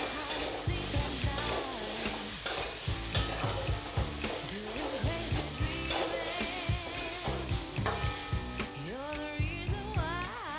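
Chopped green and ripe chillies sizzle in hot oil in a pan for Bengali poha pulao. Steady frying hiss runs throughout, broken by repeated rhythmic scrapes and clinks of a spatula stirring close by.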